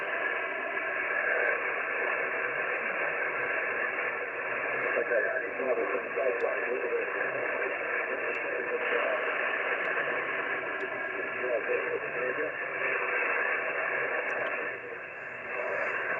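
Band-limited amateur radio reception with noise reduction on hisses steadily with filtered static, a faint fading voice buried in the noise throughout, ending with a slight dip in level.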